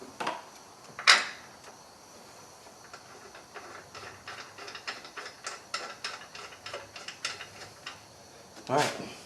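Bolts are run in with a ratchet on a 2001 Buick Park Avenue front strut, a fast rapid series of close clicking pawl ratchet strokes, with a couple of louder knocks at the start and end.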